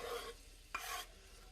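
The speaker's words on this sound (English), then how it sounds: "I'm going to saute these vegetables until they're just translucent" Vegetables saute in butter and oil in a pan, giving a faint, soft sizzle with a quick stirring scrape in the middle.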